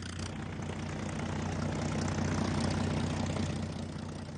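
Piston engines of US Wildcat fighters and Dauntless dive bombers drone steadily in a low, continuous roar that swells slightly in the middle and holds without pause, with no voices over it.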